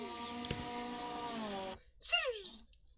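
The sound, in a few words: voice imitating car downshift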